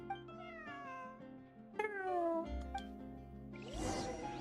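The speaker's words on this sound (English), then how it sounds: "I will repeat every meow that gets said during this hangout." A cat in the video game Genshin Impact meows again and again over a few seconds, soft and fairly close, ending in a rough, noisy burst.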